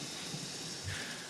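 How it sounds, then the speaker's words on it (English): Heavy rain falls outside an open door during a severe summer thunderstorm in Lenawee County, making a dense, steady wash of noise with a faint low rumble partway through. "This is raining pretty hard."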